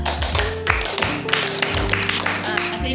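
Rhythmic group clapping of a Pramuka scout clap chant (tepuk Pramuka), sharp claps in quick patterned bursts, with voices and some tonal sound running underneath.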